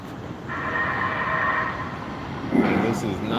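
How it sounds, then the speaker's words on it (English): An LA Metro train in a station: a steady rumbling hum with a sustained tonal whine in the middle, then a brief squeal or hiss near the end, heard up close. "This is not the train I'm going to get on."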